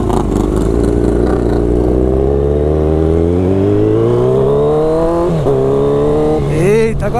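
Kawasaki Z1000 motorcycle exhaust heard while riding, a loud continuous engine note that climbs steadily in pitch through the gears, dips briefly with a shift, then revs up again near the end, with heavy wind rush throughout.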